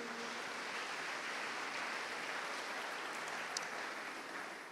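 Congregation applauding during a Sunday church service, a steady dense wash of clapping that holds evenly throughout, loud and continuous with no pauses.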